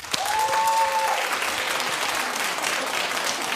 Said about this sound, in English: Clap if you've never been to a prom in your life.